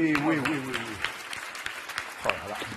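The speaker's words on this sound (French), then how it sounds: "N'applaudissez pas Christophe." A television studio audience on a French game show applauds, a scattered clapping that runs under someone talking and then thins out.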